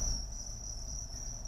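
Steady, high-pitched chirping from a mass of crickets being raised in a greenhouse cricket farm, a continuous shrill drone with low rumble beneath and no voices.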